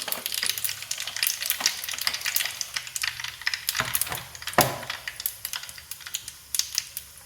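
Mustard seeds spattering and popping in hot oil in a home kitchen, a dense run of sharp crackles and pops close up, steady throughout with no talking.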